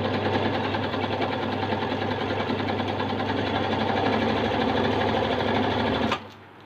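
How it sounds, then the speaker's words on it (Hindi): Close and loud, an Usha Queen Stitch sewing machine runs in one continuous, even whirring drone for about six seconds and then stops abruptly. "इसी में हम सी वाला पैटर्न चलाएंगे"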